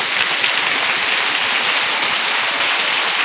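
A church congregation claps in a thick, continuous patter at moderate loudness, with no talking over it.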